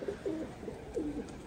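Pigeons cooing nearby in a loft during their moulting period, a series of soft low throaty coos in repeated rolling phrases, close and clear with no talk.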